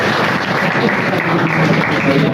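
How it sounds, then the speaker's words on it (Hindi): Crowd at a Diwali celebration claps loudly and continuously to welcome a guest onstage, a thick wash of applause with faint murmuring mixed in. "जोरदार तालियों से उनका स्वागत कीजिए।"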